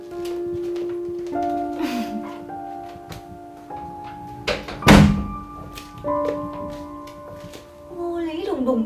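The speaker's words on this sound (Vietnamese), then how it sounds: "Mẹ đóng hộ con cái cửa nhá." A door thuds shut once, a solid single thump heard nearby in a home, while a steady tonal background of music plays throughout.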